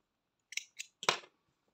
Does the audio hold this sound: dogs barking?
no